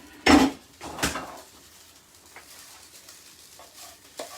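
Heated rice being stirred in a pan with a utensil, with sharp metallic scrapes and knocks near the start, then quieter scraping and faint taps, no talk.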